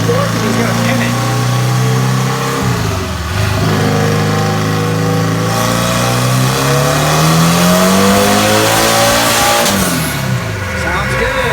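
A car on a dyno revving hard in 4th gear, loud engine tone climbing steadily in pitch after a brief dip, with someone talking over it.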